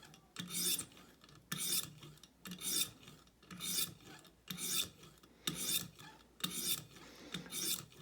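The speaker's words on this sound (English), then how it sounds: "We worked on it with the 400 grit stone" A Benchmade Mini Adamas knife blade is drawn across a 400 grit sharpening stone in about eight steady, evenly spaced rasping strokes, close and fairly quiet.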